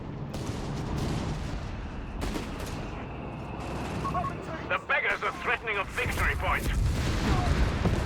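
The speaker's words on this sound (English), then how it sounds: "Massive explosions." Massive explosions and gunfire rumble from a Company of Heroes 3 multiplayer battle, with booms and rapid crackling bursts under continuous excited commentary from a caster.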